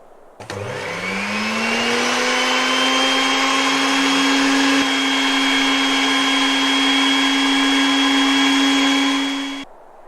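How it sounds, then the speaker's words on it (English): A Hobart electric stand mixer in a VR kitchen motors up to a steady, loud whirring drone with a constant tone, running evenly for about nine seconds before cutting off abruptly. "Point your controller at the mixer and pull the trigger to start it up."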